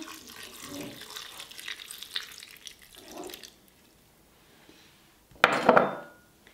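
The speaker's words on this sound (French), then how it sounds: "Je vais arroser le tout avec environ un demi-verre de vinaigre." Vinegar poured over a potato and lupin salad in a kitchen, heard as a soft trickle and faint splashing that ends in a louder, brief splash near the close, with no talking.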